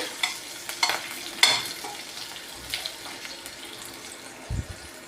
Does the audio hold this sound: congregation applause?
no